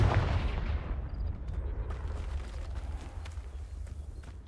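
A Confringo blasting spell cast in Hogwarts Legacy, heard as a loud opening blast that decays into a rumbling low roar with scattered crackles over several seconds.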